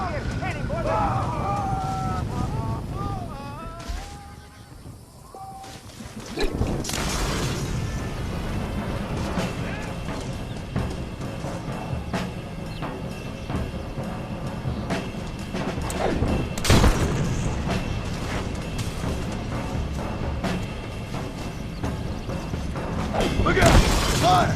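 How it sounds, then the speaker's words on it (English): A castle exploding in Red Dead Redemption, heard as repeated crashing blasts and shattering debris over a rumbling mix, with voices talking and shouting through much of it. "Escuchen cómo explota el castillo"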